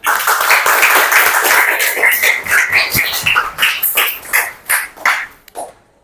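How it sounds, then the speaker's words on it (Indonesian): Classroom students clapping together, a loud dense burst that thins into scattered separate claps before stopping. "Oke, semuanya tepuk tangan."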